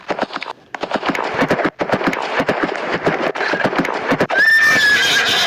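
A horse whinnies loudly in a Roblox prison obby game, the neigh rising out of rapid clip-clop hoofbeats and busy game sounds near the end of the stretch.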